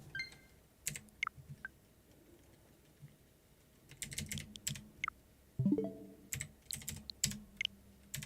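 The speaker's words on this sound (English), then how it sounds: "Sorry if you hear the keyboard clacks, but that's obviously something I can't help." Computer keyboard keys clacking in scattered bursts during a gaming session, sharp close clicks alternating with quieter pauses, with no talk.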